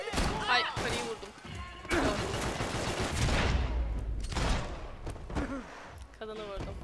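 Gunfire in Max Payne 3, a burst of shots and crashing impacts over several seconds with a loud sustained barrage in the middle, while someone talks over much of it.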